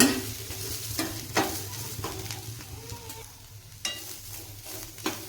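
Cluster beans stir-fried in a pan, a soft sizzle broken by intermittent scraping stirs at irregular intervals, fairly quiet and close.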